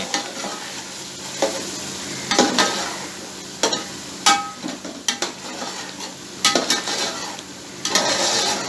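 Tomato puree with red chilies sizzles in hot oil in a pan for a desi chicken curry, with a spoon scraping and stirring in steady, irregular strokes, close and clear.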